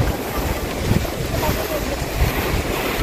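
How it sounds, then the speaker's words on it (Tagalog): Strong wind on Lantau Peak, Hong Kong, roaring steadily into the microphone with gusty swells in a cold mountain setting. "Sobrang windy yung weather mo guys."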